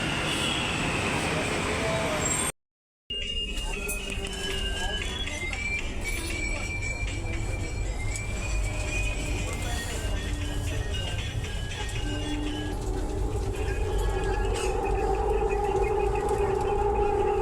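Interior of a Hyderabad metro train in motion, a continuous rumble of wheels on rail with whining motor tones and occasional squeals, steady and close throughout, broken by one brief gap.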